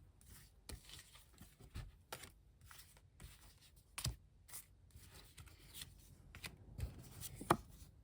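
Playing cards handled and shuffled at close range, a run of soft irregular riffles, slaps and rustles with occasional sharper snaps, quiet and without talk.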